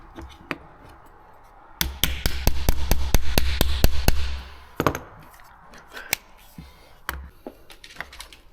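A wrench taps a pin back into the body of a G&G Firehawk airsoft M4 with a quick run of about ten sharp, close metallic knocks. A few scattered clicks and knocks of handling follow.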